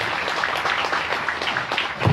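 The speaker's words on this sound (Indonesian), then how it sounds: "Kasih apresiasi, kasih tepuk tangan untuk beliau." Audience applause at a Sundanese Islamic sermon for Muharram, a dense, steady clatter of many hands clapping for about two seconds, swelling slightly at the end, with no talk over it.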